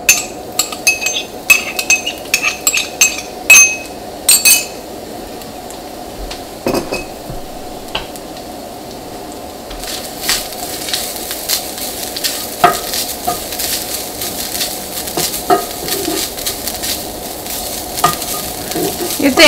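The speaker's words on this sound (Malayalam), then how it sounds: "ഈ തേങ്ങ നന്നായിട്ട് മുരിഞ്ഞിട്ട് നല്ലൊരു ഗോൾഡൻ കളർ ആവണം" Grated coconut stir-fried in a little coconut oil in a pan gives a soft, steady sizzle, with quick clinks and scrapes of a spoon against the pan at the start and a slightly louder sizzle later.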